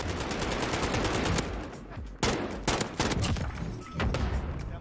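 Rapid, sustained automatic AN94 rifle fire from the Modern Warfare video game, loud and close, in long dense bursts with brief gaps between volleys and no speech over it.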